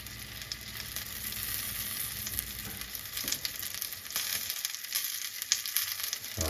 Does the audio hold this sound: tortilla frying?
yes